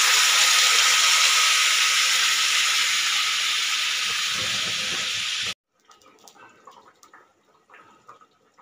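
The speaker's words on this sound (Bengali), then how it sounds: "মিক্স করে দিয়ে দিতে হবে গরম জল" Hot water poured into a cooking pan for a Bengali masala curry, a loud steady hissing sizzle lasting about five seconds that cuts off abruptly, followed by faint scattered clinks.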